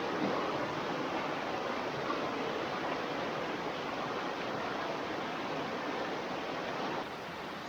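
Fast, swollen Fishing Creek rushes loudly after a storm in Pennsylvania state game lands, a steady broadband roar of water that holds constant throughout and dips slightly near the end, with no voices.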